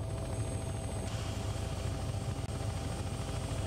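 Helicopter rotor and engine in the flight game Take On Helicopters, preparing for takeoff: a steady, loud, continuous drone with a high whine that cuts out early.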